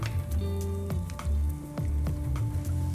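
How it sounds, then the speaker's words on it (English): Minced shallot and garlic sweating in butter in a pot, giving a steady close sizzle with soft crackles and a few stirring scrapes, without any talking. "So I've got some more butter, and I'm gonna sweat some minced shallot"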